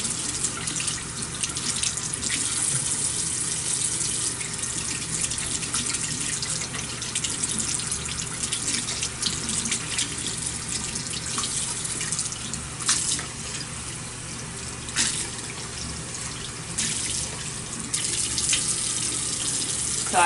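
Tap water running steadily into a bathroom sink during a nighttime skincare routine, a continuous close hiss and splatter with occasional louder splashes as hands move through the stream.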